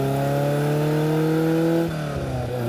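A car engine revs loudly and steadily while the vehicle drives through a neighborhood, its deep tone holding and then dropping as the throttle eases off near the end, with no talking.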